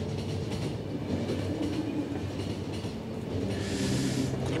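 Train from the video game The Final Station rattles steadily along the rails, a loud continuous clatter with a brighter hiss swelling near the end, no voices.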